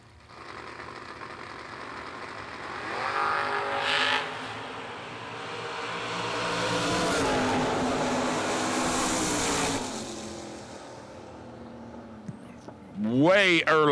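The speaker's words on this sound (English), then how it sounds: "Stockwell's got the wagon down 624 to BJ's 596 in the Oldsmobile." At a drag strip, a station wagon and an Oldsmobile launch and roar down the track, their engine noise swelling and holding for several seconds before fading, under continuous announcer commentary.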